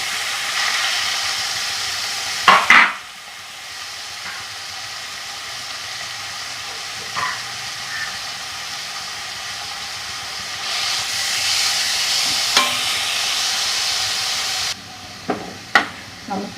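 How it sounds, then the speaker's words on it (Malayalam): Chopped onion, small shallots, crushed garlic and dried chillies frying in a hot pan give a steady loud sizzle and hiss, with a few sharp crackles and pops spaced through it. "ഇതിലോട്ട് നമ്മുടെ പകുതി സവാളയും 3-4 ചെറിയ ഉള്ളി വെളുത്തുള്ളിയും കൂടി ചതച്ച് വെച്ചിട്ട് ഇട്ട് കൊടുക്കാണ് കേട്ടോ."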